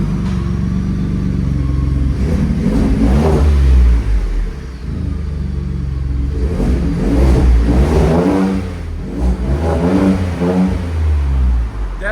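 Ford F-150 with a 3.5L EcoBoost engine and aftermarket exhaust, heard from inside the cab as it revs repeatedly, a deep rumbling drone rising and falling in several loud pulls.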